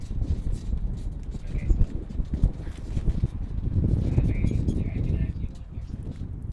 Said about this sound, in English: Absolutely windy here